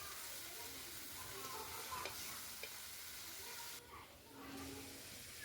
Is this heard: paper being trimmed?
no